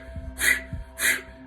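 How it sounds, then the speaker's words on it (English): Two sharp, forceful breath-of-fire exhales pushed out through the nose in quick succession, close and clear, with faint soft sounds between them. "We're going to do a breath of fire."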